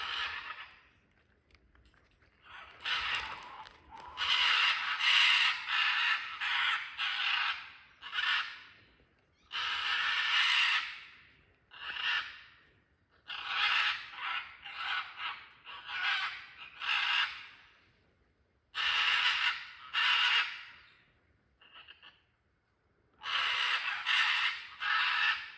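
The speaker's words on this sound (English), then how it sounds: "Scarlet macaws are not just striking to look at, they are very loud and noisy." Loud, harsh squawking scarlet macaw calls in Costa Rica in repeated bursts, some overlapping, with short quiet gaps between outbursts.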